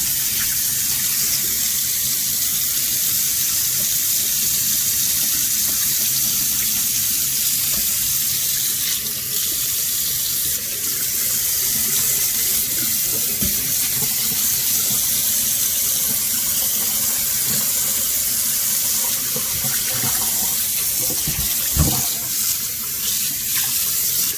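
Water from a faucet runs steadily into a sink as the sink is rinsed, giving a loud, continuous gushing splash close by. Occasional small knocks break in, and there is no talk.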